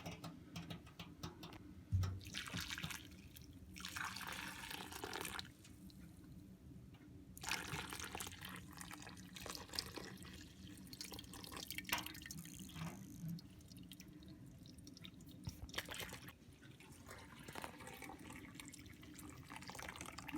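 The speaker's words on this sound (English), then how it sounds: "We'll just slowly pour that in and filter that into the pot." Maple sap trickles slowly through a t-shirt filter into a pot, a faint, steady dribble of liquid heard up close for about twenty seconds, with some light handling noise.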